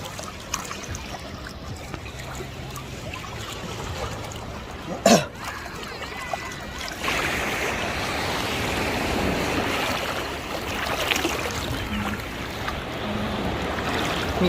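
Sea waves wash onto the coast at Busan, Korea, a steady broad rush that swells louder midway, with a brief nearby thump and faint background voices.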